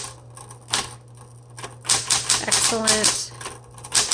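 Typing on a clean 1970s Smith Corona Electra 210 electric typewriter with a sometimes faulty shift lock, its keys striking in irregular clusters over a steady motor hum, with a person talking briefly.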